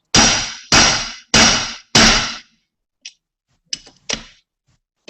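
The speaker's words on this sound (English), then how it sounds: "I'm going to hit it a couple times with the hammer" A hammer strikes a dimple die on aircraft control surface ribs: four loud, sharp metallic blows in quick succession, then a pause and a few fainter, lighter taps.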